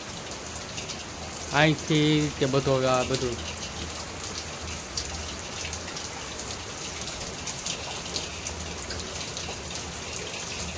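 Steady rain falls on a surface outside a rented room, a continuous hiss that runs throughout, with people talking briefly over it near the start.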